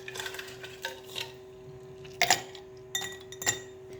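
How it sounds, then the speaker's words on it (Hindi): Ice cubes dropped into drinking glasses for a chilled jaggery sherbet, several bright clinks in quick clusters against glass, close and sharp, separated by short quiet gaps over a faint steady hum. "सबसे पहले हम डालेंगे गिलास में बर्फ़।"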